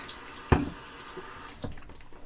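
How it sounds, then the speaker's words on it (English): Tap water runs briefly while a straight razor is rinsed at a sink, with a sharp splash onset and a second quieter gush soon after, close and alone. "I'm going to rinse the razor"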